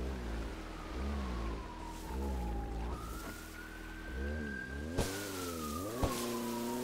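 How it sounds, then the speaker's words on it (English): A video game police car siren rises and falls over a low engine rumble, with a couple of sharp knocks, steady and fairly close. "Is that your siren I hear rolling?"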